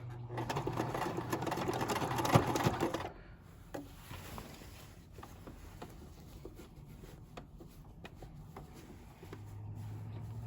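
A sewing machine runs close and loud for about three seconds, stitching men's button-down shirt fabric into a skirt at a medium stitch length, then quieter handling follows and a brief hum returns at the end.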